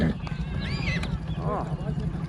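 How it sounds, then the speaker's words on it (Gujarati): A Kathiawari mare whinnies in short, wavering bursts, fairly near, under ongoing talk and steady background noise. "દીપકભાઈ વાળી ઘોડી આવી ગઈ છે"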